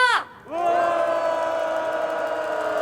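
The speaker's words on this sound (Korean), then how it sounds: "함성 시작." Protesters at an anti-US rally in Korea let out a sustained, loud unison roar after a brief cry at the start, the massed shout holding steady to the end.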